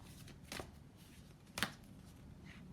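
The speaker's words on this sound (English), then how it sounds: "pull you another 3 cards" Tarot cards are shuffled and drawn by hand, two short riffling bursts separated by quiet, close and soft with no talking.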